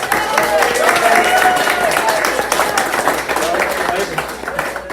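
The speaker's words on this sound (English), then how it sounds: "let's have a big round of applause for Doug Smith" Audience applause for Doug Smith at an outdoor county Republican Party picnic, scattered clapping from a crowd mixed with voices and chatter, moderately loud throughout.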